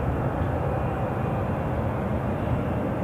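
A Ryanair airplane at Newcastle International Airport gives off a steady, loud broadband engine roar that holds constant throughout, with no talk over it.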